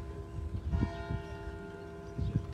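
Village church bell ringing at a distance, sustained tonal hum with steady overtones and soft low thumps of nearby movement, fairly quiet and without voices.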